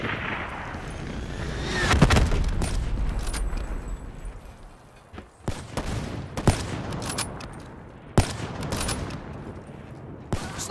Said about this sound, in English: Hostile hellstorm overhead.